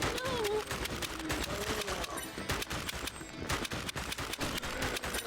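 Rapid bursts of gunfire ring out in The House of the Dead on Nintendo Switch, dense and loud, mixed with game music and effects throughout.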